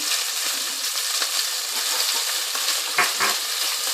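Ginger garlic paste frying in hot oil in a pan for a dhaba-style chicken and chickpea curry, giving a loud, continuous hiss with a couple of brief stirring bumps near the end.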